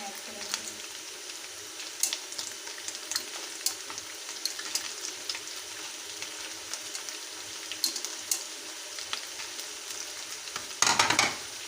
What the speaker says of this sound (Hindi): तो अब हम इसमें जो टमाटर हैं वो इसमें ऐड करेंगे।